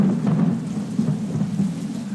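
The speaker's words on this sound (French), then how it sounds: "On a un simulateur de pluie tropicale" A tropical rain simulator sprays water onto a camping tent to test its waterproofing, giving a steady, dense hiss of spray and drumming drops close by, continuous and fairly loud, with no voices.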